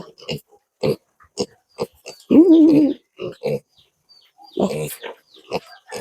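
A piglet grunts in short repeated bursts, with a couple of longer, higher squealing cries mixed in, close and fairly loud.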